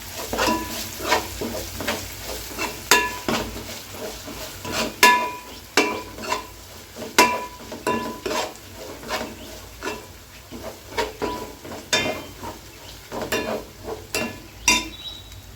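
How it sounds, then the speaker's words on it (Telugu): Chicken biryani masala stirred and fried in a pan, heard as repeated sharp scraping and clinking strokes of a utensil against the pan over a low sizzle, close and rhythmic. "ఇది అది కూడా బాగా కలిసేటట్టు వేగేటట్టు కలుపుకుందాం"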